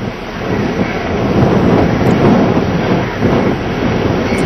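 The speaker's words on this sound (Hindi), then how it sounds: "या तो बारिश हो रही है" Heavy rain and gusting wind roar in a loud, continuous wash during a high tide alert in Mumbai, with rumbling buffeting on the microphone and no talk.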